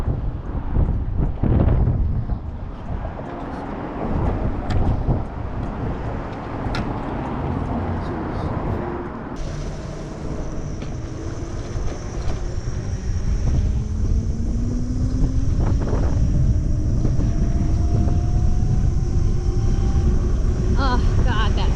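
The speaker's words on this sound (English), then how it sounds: "Oh God, that feels amazing. Woo, that breeze." Steady wind roar buffets the microphone on a motorbike ride, a dense continuous rush with engine hum and a rising drone beneath, while a rider talks over it.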